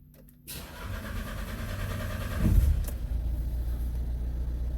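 A Renault Trafic diesel engine with a disconnected crankshaft position sensor cranks briefly, catches with a rising roar, then settles into a steady, close idle, with no talking.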